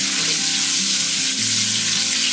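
Onions frying in a pan for sambar, a loud, dense, steady sizzle close up, with a faint hum beneath and no stirring breaks.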